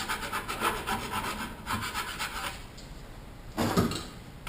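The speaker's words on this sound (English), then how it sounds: "You can file this off all the way around" A metal file rasps back and forth over the lip of a 4L60E transmission tool in repeated close strokes, steady at first, then a pause and a louder final burst of filing.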